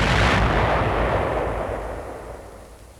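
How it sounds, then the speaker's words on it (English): A Teller anti-tank mine hidden in a roadblock goes off as a bulldozer strikes it in 1944 wartime footage, a loud heavy boom whose rumble slowly fades. "A bulldozer hits a teller mine hidden in a roadblock."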